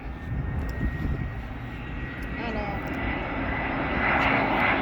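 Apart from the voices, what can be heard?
passenger airplanes at BWI Airport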